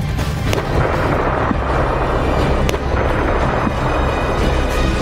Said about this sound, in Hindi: ये धमाके याद कीजिए